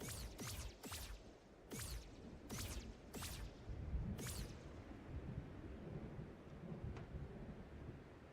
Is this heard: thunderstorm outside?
yes